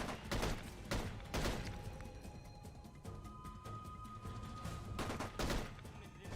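AK-47 fire in a video game: repeated loud rifle bursts in quick rattling volleys, with brief lulls between clusters of shots and some background game noise.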